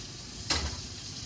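Steak sizzles in a hot pan, a steady frying hiss with one brief louder burst of spitting midway, heard close.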